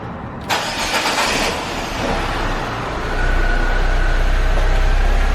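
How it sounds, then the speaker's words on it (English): Saab 9-3 engine cranking over and catching after a new ECU is programmed, a slightly rough startup that settles into a steady, close idle drone. "A little weird startup, but it's idling fine"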